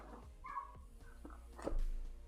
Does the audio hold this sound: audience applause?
no